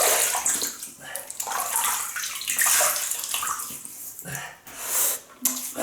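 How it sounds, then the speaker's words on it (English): Running water from a tap splashes steadily as a face is wetted before lathering with Palmolive shaving soap for a wet shave with a Lord L6 double-edge razor; close, continuous and fluctuating, with no talk. "But we're going to wet the face and then lather on the face."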